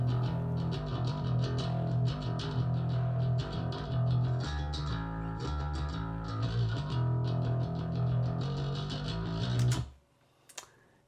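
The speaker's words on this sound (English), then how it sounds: "the bass by itself sounds like this." A bass guitar plays alone through a direct recording chain in a mixing setup. Its dense, loud low notes drive a busy groove with bright attack clicks, then stop abruptly near the end, leaving faint residual noise.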